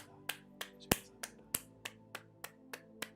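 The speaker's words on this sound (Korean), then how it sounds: "우리 하나님 앞에 영광의 박수 돌리고 마치겠습니다." Sharp, close claps at an online church prayer meeting, about ten crisp strikes in a steady rhythm roughly three per second, each standing alone against a quiet room with no talking.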